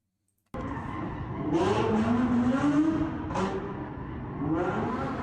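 Dodge Hellcat at a street takeover, engine bursting in after a silent start and revving hard in rising surges with tire squeal between pulls, loud and close throughout.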